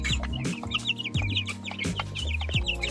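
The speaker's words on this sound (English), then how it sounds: "Yeah, and also the chickens make a big mess." Backyard homestead chickens cluck steadily and close by, a busy chorus of repeated rhythmic clucks with higher chirpy calls layered on top, no talking.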